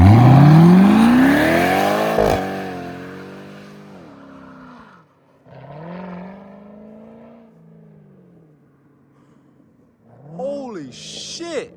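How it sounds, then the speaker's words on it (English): A 500 hp Corvette with a new exhaust system revs hard in a burnout attempt, its engine note climbing steeply and then falling, followed by a few shorter revs with pauses between, loud and close. "Dude, that thing sounds fucking crazy. I think he was trying to do a burnout."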